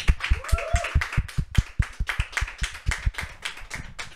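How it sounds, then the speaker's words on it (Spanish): Scattered applause from a small audience closing a topic on a faith talk show, a few distinct claps in an uneven rhythm, close and fairly sparse, with a brief whistle-like tone near the start. "despedimos esta temática con un fuerte aplauso"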